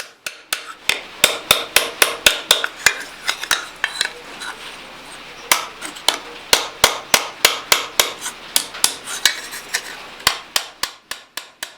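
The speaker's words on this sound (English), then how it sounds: "I anneal the blank, and then I bring it over to the anvil and start working at the base of the folds" Hammer blows on an annealed metal blank on an anvil while forging a Betty lamp pan: loud, ringing metallic strikes close up, landing in quick rhythmic bursts with short pauses between them and no talking.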